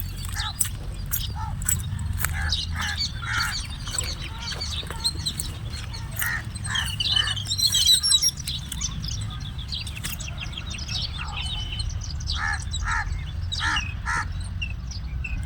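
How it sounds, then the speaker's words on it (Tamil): Morning in a village with peacocks and pigeons about: repeated harsh bird calls and squawks ring out over a steady low background hum, dense and fairly loud throughout, with no talk. "எவ்வளோ மயில் புறாக்கள் எல்லாம் எப்படி இருக்காங்க பாருங்கள்."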